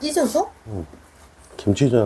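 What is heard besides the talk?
None of the usual background noises is heard.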